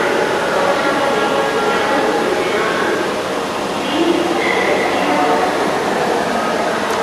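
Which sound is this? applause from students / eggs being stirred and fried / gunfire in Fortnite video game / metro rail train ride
metro rail train ride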